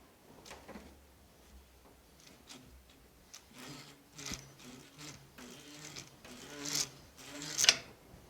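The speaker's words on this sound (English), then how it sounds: "I'm going to hold the opposite pedal here still and just leverage it till it's loosened" A SRAM bicycle pedal being loosened with a wrench while the opposite pedal is held still; faint rasping, creaking and scraping strokes that grow louder and more frequent toward the end, with no talking.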